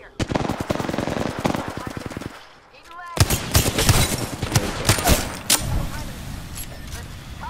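Video game gun firing in rapid automatic bursts, loud and close, with dense crackling shots and a brief pause midway, mixed with other game noise and voices talking over it.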